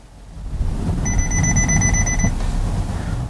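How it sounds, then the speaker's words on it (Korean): A Hyundai Venue's forward collision-avoidance warning sounds as a rapid run of about ten high, evenly spaced beeps over steady cabin road rumble, loud and close inside the car. "삐비비비비 이러면서 앞차와의 간격이 가까워졌다라는 그런 앞차 충돌 방지 보조도 되어 있고"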